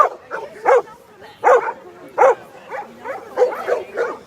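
Big, fluffy Bernese puppies give short, repeated barks and yips mixed with whimpers, coming in bursts about every half second to a second. The sound is close and fairly loud.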